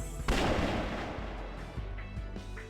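Gunshot in the video game Trauma Team: a single loud, sharp report with a rolling boomy tail, followed by faint softer thuds under a sustained low background tone.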